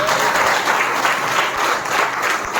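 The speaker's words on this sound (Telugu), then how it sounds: "ఒకసారి క్లాప్ ఇద్దామా?" An audience at a function with a food arrangement claps steadily, a dense and loud applause that fills the room with no voices over it.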